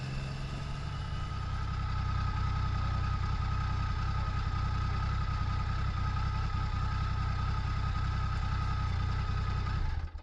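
A 1993 Triumph Tiger 900 motorcycle engine idles steadily and close up, a continuous low throbbing rumble with faint mechanical clatter, holding an even level for about ten seconds with no talking.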